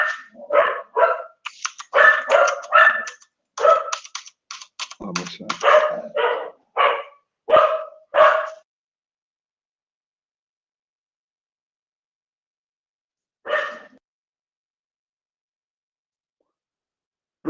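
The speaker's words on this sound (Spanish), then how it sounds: "perdón por la bulla de los cachorros" Puppies bark in a rapid, clustered burst of high yips and barks for the first half, then fall quiet apart from a lone bark later, close and fairly loud with no talk over them.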